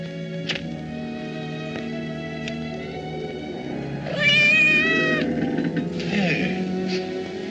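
A cat meows loudly and drawn-out in an old werewolf radio-style drama, rising over a low sustained musical score, followed by a second fainter mew.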